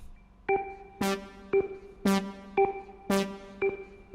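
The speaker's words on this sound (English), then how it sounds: "That's why I added that brass there." Brass stabs accompany an organ in an Amapiano beat, with shorter organ notes alternating with bright brass hits in a quick, even, metronome-like rhythm of about seven accents over four seconds, played alone and up front.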